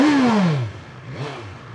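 A 2025 BMW S1000XR motorcycle engine rev drops sharply from a high, loud whine to a lower idle. A quieter second blip of the throttle follows, heard close with no talking.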